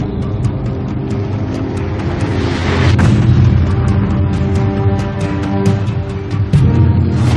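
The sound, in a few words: underwater nuclear weapon explosion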